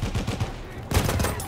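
An Automatico submachine gun fires in the Battlefield 1 video game: a loud, dense burst of rapid automatic gunfire that pauses briefly and resumes, all within a second and a half.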